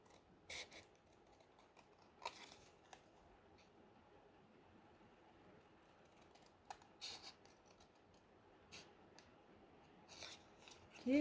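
Scissors snipping paper for a handmade scrapbooking card, several quiet, short crisp cuts spaced irregularly against a faint, near-silent room background.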